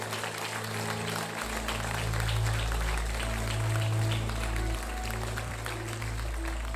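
Church congregation clapping loudly in a sustained burst of applause, with strong low organ or keyboard chords swelling underneath throughout.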